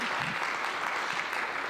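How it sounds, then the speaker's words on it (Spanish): Church congregation applauding in a sustained, steady burst of clapping throughout, dense and fairly close, with no talk over it. "Dale un aplauso al Señor Jesús."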